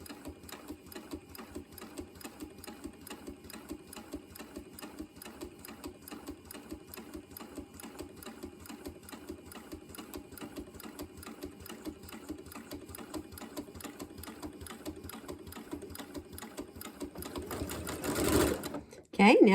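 Steady, even whirring stitches from a sewing machine chain piecing quilt pieces for snowballed rectangles, run at a slow, constant pace with a clear stitch rhythm and a brief louder bump near the end.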